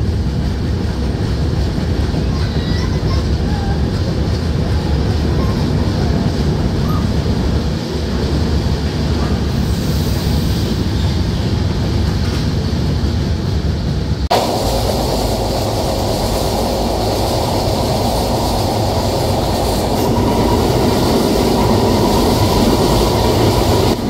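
Madhumati Express train running on the Rajshahi–Dhaka line toward the Padma bridge: a steady, loud rumble of wheels and carriages throughout, with the sound character shifting abruptly partway through as the train passes onto a different stretch.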